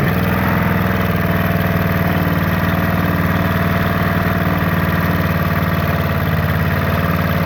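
A Clarke CPB1200 petrol power washer engine idles steadily after a cold start with the choke off, a loud, even, close mechanical chug with a constant low throb and no voices.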